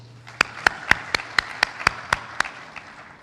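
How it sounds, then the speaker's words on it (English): Sharp, evenly spaced claps, about nine in a row, ring out close and clear in a hall at a water and sanitation conference in Mombasa, with no talking over them. "I think they both deserve a round of applause."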